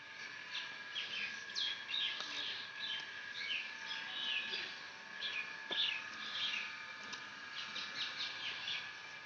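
Pet budgerigars chirp and warble continuously in a small indoor flock, a busy overlapping twitter of high, rapid calls holding at a steady, moderate level throughout.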